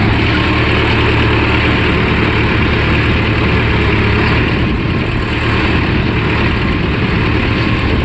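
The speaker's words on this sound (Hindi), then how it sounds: "बिल्कुल आइडल आरपीएम पे 11 से 12 की रेस पे चल रहा है।" A Mahindra Arjun 4x4 CRDI tractor idles steadily at low rpm, a loud, continuous low diesel rumble with even engine throb and no voices throughout.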